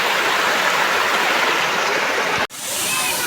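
A nearby waterfall roars at Marleshwar temple amid monsoon hills, a loud, steady broadband rush that cuts out for an instant near the end before resuming.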